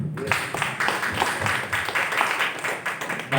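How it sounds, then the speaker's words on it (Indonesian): Church congregation clapping together during a service, a moderately loud stretch of scattered, overlapping handclaps with some voices mixed in. "Tepuk tangan buat Tuhan kita."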